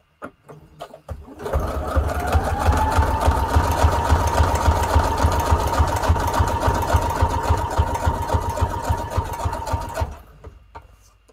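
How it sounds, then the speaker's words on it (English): A sewing machine runs a zigzag stitch on a junk journal tag, its motor whirring steadily for about nine seconds at close range with a fast mechanical chatter, starting and stopping cleanly with no talk. "I'm gonna make default on the zigzag stitch"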